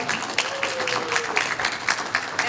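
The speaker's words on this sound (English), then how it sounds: "you're welcome to applaud." Scattered, light clapping from a debate audience greeting a county school superintendent candidate, with uneven individual claps rising and falling and a brief thin tone sounding in the middle.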